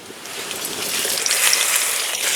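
Chopped onions, garlic and green chili fry in mustard oil in a wok, making a loud, continuous hiss and crackle that builds slightly and holds steady, with no voices.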